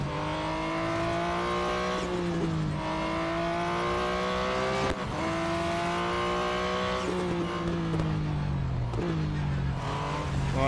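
Race car engine roaring in the Real Racing 3 video game at around 195 miles per hour, a loud continuous high-revving drone with repeated pitch dips and climbs through gear shifts, heard alone without talk.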